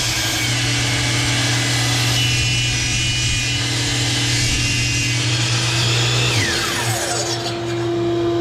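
A power saw cuts a wooden post to length, running as a loud, steady whine for about six seconds before winding down near the end.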